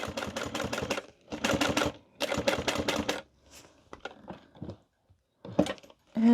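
A sewing machine stitches a laptop-sized tote bag in three quick, close bursts of rapid needle clatter, followed by softer, scattered clicks and short pauses.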